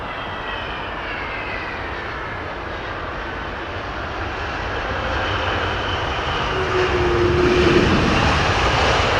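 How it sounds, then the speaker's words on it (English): Jet engines roar steadily from a large airliner nearby at London Heathrow, a broad rumbling whoosh that slowly swells and shifts as the engines decelerate. "Lovely hearing those engines decel literally as"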